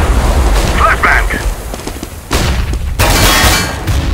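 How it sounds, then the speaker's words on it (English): A flashbang grenade goes off in the video game CS:GO as a sharp burst followed by a bright, hissing ringing that fills the upper range for about a second, set among gunfire-like booms during a tense round, with players talking over it. "Flashbang."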